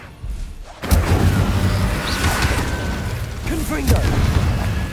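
Confringo blasting spell bursting in the Hogwarts Legacy video game, a sudden loud boom followed by a sustained roaring rumble that stays loud to the end, with no speech over it.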